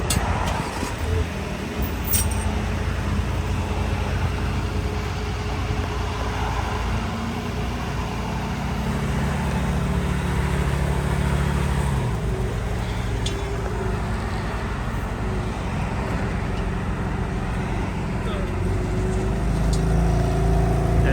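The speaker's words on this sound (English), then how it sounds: "About to drive the car up onto the flatbed." Crashed BMW M3 creeping slowly up onto a flatbed, low steady engine drone with faint traffic and ambient noise around it, no clear revs, fairly quiet and continuous.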